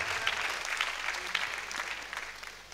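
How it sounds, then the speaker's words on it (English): A church congregation clapping for Jesus during a sermon, a full, continuous patter of many hands that rises and falls slightly in waves before easing off toward the end. "Clap for Jesus."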